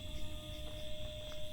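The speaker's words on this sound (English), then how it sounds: "Oh, it's just a cricket." A single cricket chirps steadily at night inside a winery, a thin, sustained high trill over a low room hum, with no voices.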